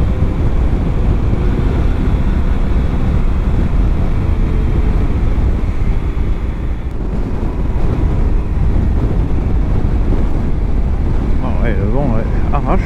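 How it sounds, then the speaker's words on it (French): Strong wind roars across the microphone while riding a BMW R1200GSA motorcycle in rain and wind, a loud, constant low buffeting rush that fills the whole stretch, with a brief faint higher tone near the end. "Ah ouais, le vent arrache."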